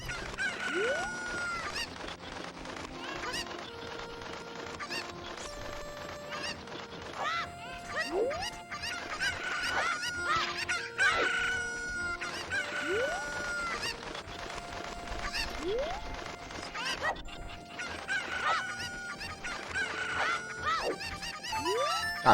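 Chickens cluck and squawk in a Zelda game, with repeated crowing calls and layered bird cries over steady game sound for the whole stretch, fairly loud and continuous.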